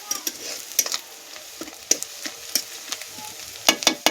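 Onions frying in oil in a pan for an Odia chhatu tarkari curry make a continuous low sizzle, broken by sharp scraping clicks from stirring at irregular intervals.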